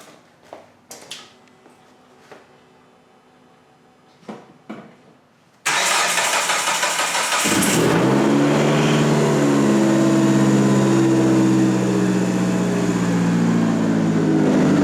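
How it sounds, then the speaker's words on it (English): A car engine fitted with a new turbo starts for the first time: after a few clicks and quiet movement, a starter whirs and the engine bursts into a loud, steady, close idle that continues to the end. "Here comes the first start with a new turbo."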